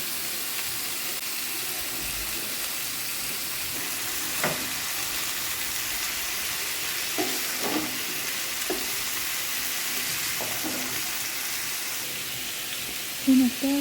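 Pumpkin pieces fry in a pan with salt, coriander, cumin and turmeric powder, giving a steady, close sizzle and hiss. Scattered scrapes and knocks from stirring come through, with a couple of louder clacks near the end.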